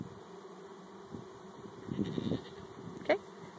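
Honeybees hum at a newly installed hive, a low droning buzz that swells briefly near the mic among faint background noise.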